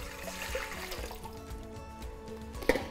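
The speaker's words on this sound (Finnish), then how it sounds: "Kaadetaan vettä" Water is poured into a bowl at home to start pizza dough, a low continuous trickle and splash that is faint and steady, with a small clink near the end.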